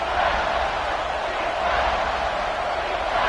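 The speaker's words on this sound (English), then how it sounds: "the crowd really getting into it" A stadium crowd cheers during the Sugar Bowl in the college football game NCAAF26, a steady wall of roaring noise that stays level for several seconds with no clear peaks.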